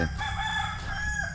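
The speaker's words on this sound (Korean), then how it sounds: "새소리가 들리길래 뭔가 했더니 여기 닭 키우네 닭장이 여기 있어" A rooster crows once nearby at a chicken coop in Siem Reap, Cambodia, a loud, drawn-out cock-a-doodle-doo with a strained, rising finish.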